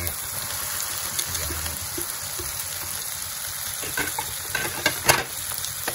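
Leftover fish frying in a pan with tomato, onion and garlic, a steady close sizzle with stirring scrapes and a few sharper clatters near the end.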